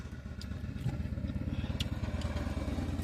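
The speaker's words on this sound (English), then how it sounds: "It's a motorcycle just passed by and I'm in the parking lot." A motorcycle engine throbs in a parking lot with a rapid, pulsing putter that swells as it passes close by, loud and mechanical.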